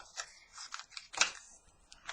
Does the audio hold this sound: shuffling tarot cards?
yes